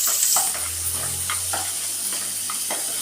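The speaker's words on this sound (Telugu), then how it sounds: "ఓకే, ఈ ఉల్లిగడ్డలు బాగా వేగాలండి." Onions frying in a hot pan while stuffed brinjal is made, giving a steady sizzle with occasional stirring scrapes over a low hum.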